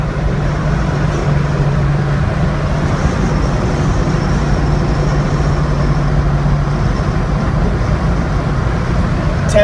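A 1974 Blazer with power steering rolls steadily down a straight road on a cold day, its engine and road noise forming a continuous loud drone with a low tonal hum throughout.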